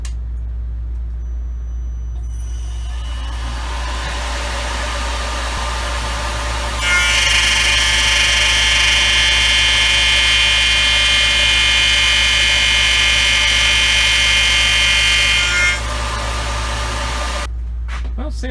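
A Tormach CNC router spindle spins up to 10,000 RPM and mills with a loud, steady high-pitched whine for several seconds over a constant low machine hum, then winds down at the end.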